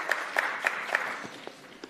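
Brief applause from a colloquium audience on electricity policy, a few sharp claps that quickly thin out into scattered, fading hand claps.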